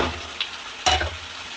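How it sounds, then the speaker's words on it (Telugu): Broad beans curry frying in hot oil in a pan, a soft continuous sizzle broken by two brief scraping stir sounds, the second louder, close with no voices. "ఫస్ట్ మనము ఆయిల్లో ఈ విధంగా వేయించుకుంటేనే మనం కూర అనేది పర్ఫెక్ట్ వస్తుందండి"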